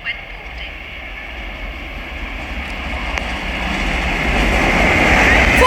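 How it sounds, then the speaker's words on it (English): Freight service from Doncaster West Yard to Southall passing through Hitchin station on the East Coast Main Line, a broad rolling rumble and rail roar that swells steadily louder as it approaches. "right there is the service from Doncaster West Yard to Southall WCR, about to pass by"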